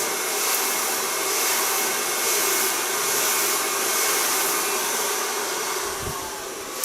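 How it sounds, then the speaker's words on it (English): A hair dryer blows over freshly washed hair at a salon, a loud continuous whooshing roar with slight swells in airflow as it moves, steady throughout with no voices. "Now dry the hair a bit, not totally dry, but a bit."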